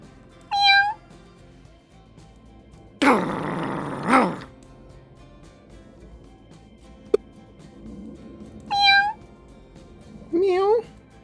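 A cartoonish cat in the mobile game Find Joe meows several times with rising, wavering cries, one long drawn-out yowl in the middle, plus a single sharp click.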